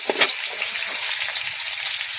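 Squash sizzles steadily in a hot frying pan as it is sautéed, a loud close continuous crackle with small stirring pulses near the start.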